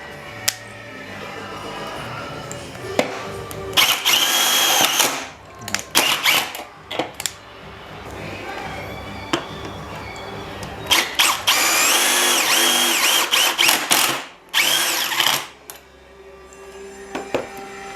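A Bosch GDR 18V-200 C cordless impact driver runs in loud repeated bursts, hammering and whining as screws are driven into metal, with short pauses between runs.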